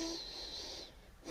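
A single deep inhalation during a gentle beginner morning yoga routine, a soft airy breath drawn in close to the microphone, with no talking.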